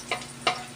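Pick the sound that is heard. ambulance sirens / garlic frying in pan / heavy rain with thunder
garlic frying in pan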